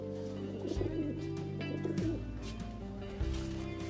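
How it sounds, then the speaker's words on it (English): A pigeon or dove gives a series of soft cooing calls over steady low tonal background sound in a TV drama scene. "You a freaky-ass bird who scared the crap out of me"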